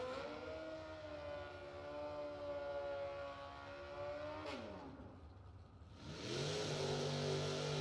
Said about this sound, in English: Casey Baugh driving two wheels, right side